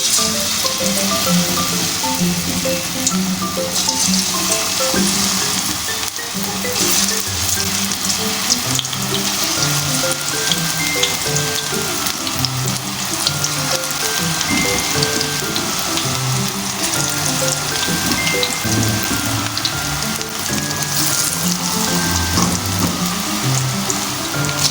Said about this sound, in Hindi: तो अब हम पकोड़े फ्राई करते हैं